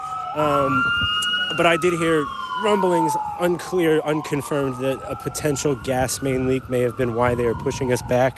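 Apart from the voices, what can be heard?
emergency vehicle sirens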